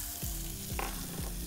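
Onion, garlic and celery sauté in olive oil for a sauce, a close, steady frying crackle with a few quick scraping stirs across the pan.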